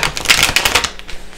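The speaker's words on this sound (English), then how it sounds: "let me shuffle." Tarot cards are shuffled close up in a quick riffling burst of soft flicks, tapering off toward the end.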